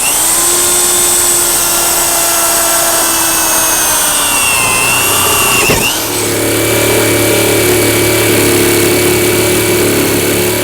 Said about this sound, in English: we'll start our saber saw through here and we'll cut this off